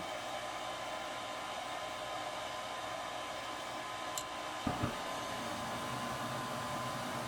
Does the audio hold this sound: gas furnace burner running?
yes